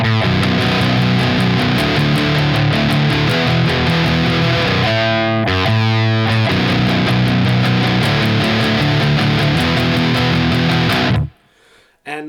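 A heavily distorted electric guitar plays a riff from a song with thick, sustained chugging chords. A brief pause falls midway, and the playing cuts off abruptly near the end.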